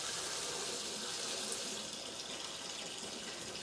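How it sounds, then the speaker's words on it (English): Hot water running from a tap into an old bucket, a steady, close rushing splash that holds continuously and eases slightly in loudness partway through. "Fill her up. I'm using hot water."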